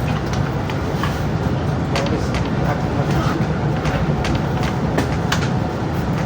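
A Turangga panoramic passenger train runs steadily on its approach to Solo Balapan station, with a continuous rumble and faint rail clatter inside the carriage and muffled voices in the background.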